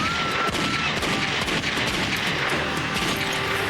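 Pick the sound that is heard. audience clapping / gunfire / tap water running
gunfire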